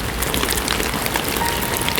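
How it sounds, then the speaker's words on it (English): Steady rain falling at a quiet, remote outdoor spot by Williams Creek in Barkerville, a dense continuous patter with no voices, even in loudness throughout. "All we could hear was the rain."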